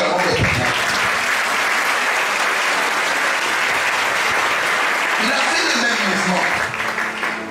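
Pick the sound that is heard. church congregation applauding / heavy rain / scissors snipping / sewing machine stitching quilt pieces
church congregation applauding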